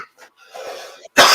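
A single harsh cough bursts out at close range at the end, preceded by faint murmuring voices outdoors.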